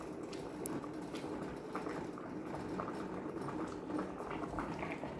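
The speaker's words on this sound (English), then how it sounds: "We let our potatoes boil just like this." Potatoes boiling in a pot of water, a faint continuous bubbling and gentle rolling burble heard close up without speech.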